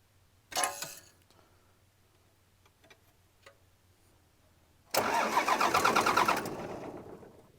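A 1993 Dodge D350 Cummins diesel, sitting unstarted for over fifteen years in a swamp, cranks in two bursts: a short one near the start, then a longer, loud, steady churning crank that almost catches, with quiet ticking between them.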